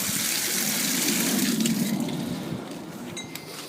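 Water runs steadily from a tap in a broad, even rush for about three seconds, then thins and fades as the flow tapers off, with a faint clink near the end.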